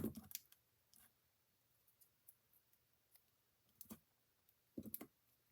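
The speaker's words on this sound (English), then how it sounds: "I keep 1 pair of scissors just for cutting these kind of things out." A single pair of scissors snips out a paper strip for a one-sheet papercraft project, giving a few sharp, close clicks and short cuts spaced apart in an otherwise quiet room.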